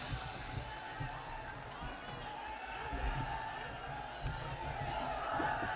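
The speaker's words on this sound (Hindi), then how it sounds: "जोरदार तालियों के साथ में उनका स्वागत करेंगे" A large crowd at a Congress public meeting in Jalore, Rajasthan, roars and cheers in welcome for Rahul Gandhi, a continuous, dense, muffled swell of voices with a few louder surges and no clear pauses.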